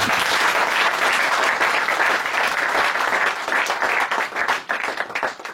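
A church congregation breaks into vigorous, sustained applause, many hands clapping steadily with a few cheers mixed in, then tapering slightly toward the end.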